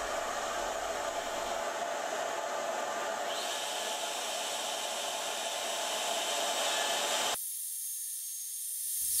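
A Shaper Origin handheld CNC router cuts an inside circle at 8 inch depth, a loud steady high whine that shifts pitch midway and then cuts off abruptly near the end, leaving a quieter hiss.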